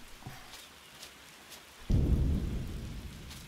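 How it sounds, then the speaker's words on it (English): Thunderstorm in the video game Empyrion set in a swamp: a sudden close thunder crack and deep rumble rising out of soft rain patter, with steady rainfall continuing underneath. "Thunderstorm."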